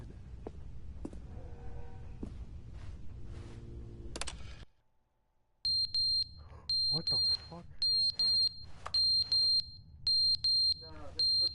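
A smoke alarm with dead batteries emits loud, evenly spaced high beeps over and over indoors, after a stretch of muffled room noise and talk and a brief silence; a voice exclaims once.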